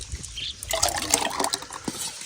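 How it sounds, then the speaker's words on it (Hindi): Buttermilk and rabdi are stirred together, making a short, close burst of wet sloshing and trickling liquid sounds with a few clinks. "छाछ और राबड़ी दोनों मिक्स कर रही है"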